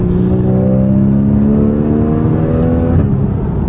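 A Porsche Cayman S 981 flat-six revs hard and loud through gear changes, its rising drone dipping briefly at each shift, heard close and alone.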